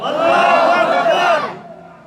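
Crowd at a religious gathering shouting the Nara-e-Takbir slogan in unison, a loud, dense chorus of many voices held for about a second and a half before fading out.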